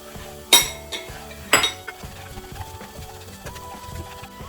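Metal utensil scrapes and clinks against a pan of melting, caramelizing sugar over low heat, two sharp louder strikes early on, then softer irregular stirring scrapes with no talking.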